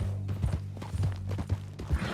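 Horse hooves clip-clopping at an easy walk in Red Dead Redemption 2, a steady near rhythm of soft thuds over a low constant hum, with a faint whinny-like tone.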